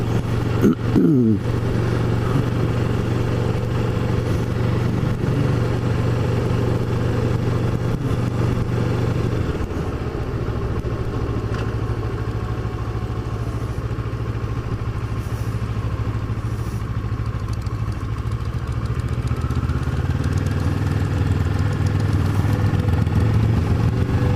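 Kawasaki Ninja 650R motorcycle engine running steadily while riding near North Cape May, a continuous loud drone with low throttle changes and some wind noise throughout.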